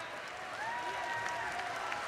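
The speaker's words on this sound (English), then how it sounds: "He's being applauded by the fans." Fans applauding at a junior basketball semifinal game, a steady wash of clapping and crowd noise swelling slightly after the first half second, moderately quiet and without clear talk on top.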